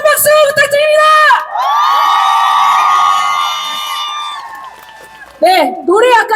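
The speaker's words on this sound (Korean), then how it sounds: "먼저 앞장서 싸워주신 우리 선배님들에게도 큰 박수 부탁드립니다." A large crowd at a nighttime candlelight rally in front of the National Assembly, loud sustained cheering and drawn-out collective shouts, fading and then rising again in short bursts.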